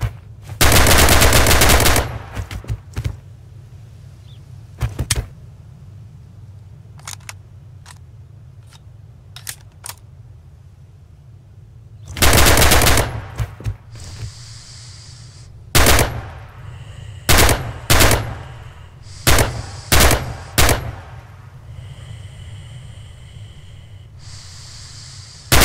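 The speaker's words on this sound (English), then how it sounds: "Free fire at the targets on the range." Gunfire on a shooting range in the game Red Orchestra 2: loud bursts and single sharp shots arrive in irregular clusters, with quieter gaps and breathing-like noise between them.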